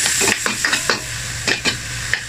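Adobo marinade sauce cooking in a pan: a steady sizzle and hiss with repeated scraping stirs at an uneven rhythm, loud and close, with no voices.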